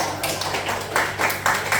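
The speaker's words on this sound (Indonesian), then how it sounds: "Tepuk tangan ketiga" Students in an Islamic religious education class clap together in a short patterned rhythm, several quick sharp bursts of group hand claps close by.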